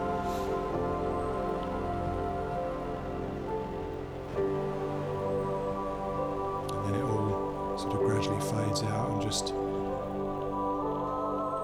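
Rain within a music track, a soft pattering texture over a sustained musical bed, with someone talking over it throughout.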